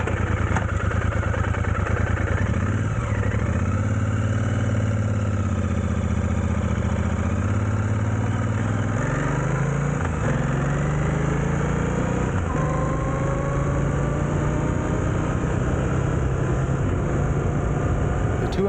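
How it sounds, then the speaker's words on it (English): A Royal Enfield Interceptor 650 with a 270-degree crank parallel twin on the stock exhaust idles nearby, a steady loud throbbing rumble that rises slightly as it is blipped, with a faint whine. "The 270-degree crank gives a V-twin rumble."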